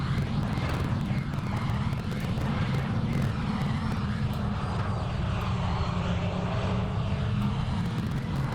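Airplane coming in to land with its gear down in the Roblox Project Flight game: a continuous, steady aircraft engine drone with propeller hum, loud and unbroken throughout, with no talking.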